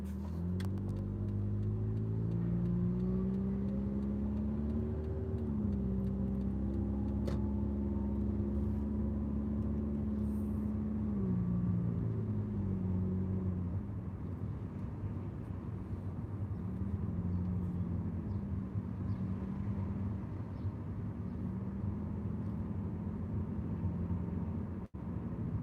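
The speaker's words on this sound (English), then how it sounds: "Wow, this is a lot of traffic." Heavy car traffic rolls through town, with engines droning and changing pitch nearby and a steady rumble of passing vehicles and no talking.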